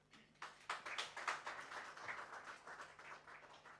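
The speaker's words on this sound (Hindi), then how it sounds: "आप ताली बजाइए एक बार" A lecture audience in a hall breaks into applause on cue, a scattered burst of claps that swells quickly and then thins out over a few seconds, moderately near and without talk.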